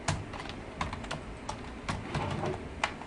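Typing on a computer keyboard, heard as scattered, irregular key clicks, fairly close and quiet, with no talk.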